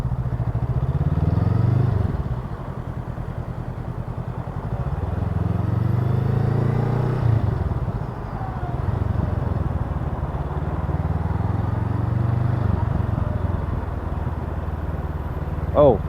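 Honda Rebel CMX500 (2020) motorcycle engine on a test ride, a continuous close drone with gentle rises and falls in pitch as the throttle changes, plus wind noise.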